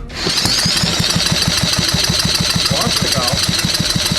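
An old 1970s Tecumseh engine with points ignition runs close by with a rapid, even chugging beat and a bright mechanical whine on top, loud and steady for the whole stretch.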